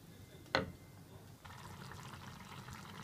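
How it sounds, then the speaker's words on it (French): A short splash of water pours into a pot of thieb guinar, Senegalese rice with chicken, followed by a soft bubbling simmer; quiet and close, with no talking. "Je rajoute un tout petit peu d'eau"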